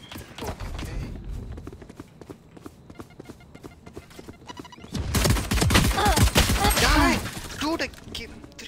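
Rapid gunfire in a competitive Valorant match: a string of sharp shots in the first half, then a busier, louder stretch of mixed game noise and overlapping voices.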